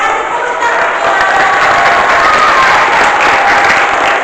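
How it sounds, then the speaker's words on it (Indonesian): Strong, steady applause with cheering from a church congregation at a celebration service, a dense wall of clapping and crowd noise that stays loud and even throughout. "Kasih tepuk tangan"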